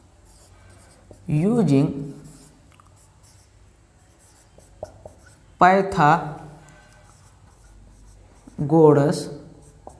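During a Class 10 trigonometry lesson, faint pen scratches are heard as a Pythagoras theorem step is written out, mostly in the gaps between spoken explanation in Hindi.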